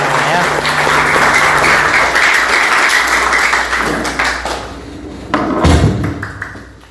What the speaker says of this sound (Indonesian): tepuk tangan semuanya ya